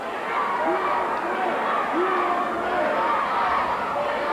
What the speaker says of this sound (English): You can hear the crowd, the thousands jamming Boutwell Auditorium in Birmingham, Alabama, as they chant USA.